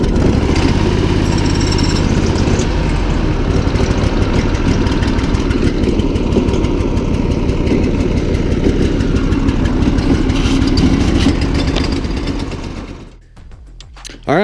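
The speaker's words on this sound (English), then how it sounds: "So I'm gonna start this engine up and let it run for about 5 minutes." A small engine idles steadily after fuel stabilizer has been added to the fuel system, a continuous mid-pitched putter with an even rhythm that carries on for a long stretch before dropping away near the end.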